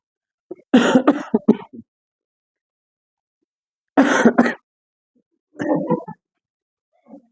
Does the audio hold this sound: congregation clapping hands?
no